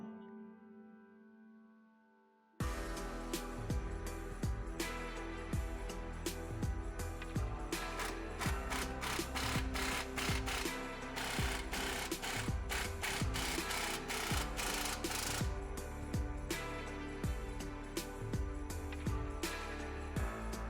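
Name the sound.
tightening bolts of ReadyLIFT track bar bracket on F250 frame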